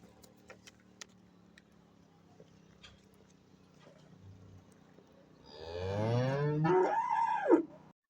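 Black Angus heifers and calves for sale in Khachmaz low quietly at first, then one cow gives a loud, long, close moo that rises and falls over the last couple of seconds.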